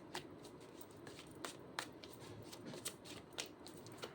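Tarot cards shuffled by hand give a quiet, soft riffling texture with several sharp snaps and flicks spread irregularly through the clip, no voices.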